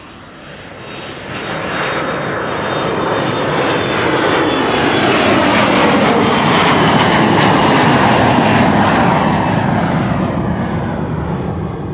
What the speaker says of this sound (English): Next up, KLM flight 1303 to Gdansk in Poland